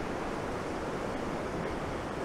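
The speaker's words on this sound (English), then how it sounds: "I think this is the river that goes to that waterfall I was talking about before." A mountain river near Temple Basin on New Zealand's South Island flows toward a waterfall, producing a constant dense rush of water that stays even and fairly soft, with no talk.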